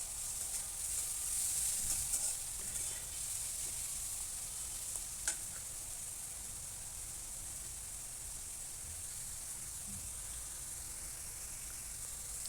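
Onions and tomato with salt fry in oil in a pan, making a steady close sizzle with a few faint stirring clicks near the start.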